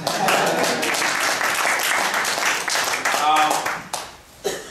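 Audience applause during a public lecture on the re-colonization of Africa, a dense, steady wash of many hands clapping that fills the room for several seconds, then thins and briefly swells again near the end.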